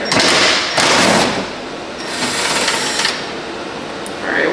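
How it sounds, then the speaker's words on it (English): A 10 mm socket wrench takes bolts out of an A90 Supra during a lighting install, giving bursts of rapid ratcheting clicks close up, with brief pauses between the runs. "switch it to this one, the 10, so that we can take these 2 bolts out real quick"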